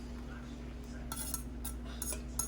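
A metal spoon scrapes and clinks against a pan while ghee is stirred and added, several light metallic taps over a steady kitchen hum, quiet and close.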